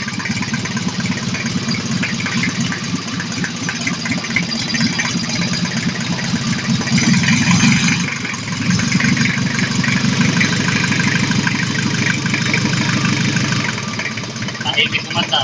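A Mazda R2 engine idles steadily with a low, even rumble throughout, close and loud, swelling slightly midway, with people talking over it.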